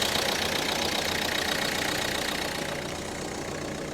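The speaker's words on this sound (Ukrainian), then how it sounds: "мотор працює рівно, немає ніяких зайвих звуків" A Renault Megane 1.5 dCi diesel engine from 2015 idles smoothly, giving a steady, even hum with a faint rapid diesel clatter, heard close and alone for a few seconds, fading slightly toward the end.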